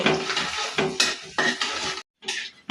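Chopped garlic and dried chili fry in hot mustard oil, a loud close sizzle in bursts as a spatula scrapes and stirs the pan, with a brief pause near the end.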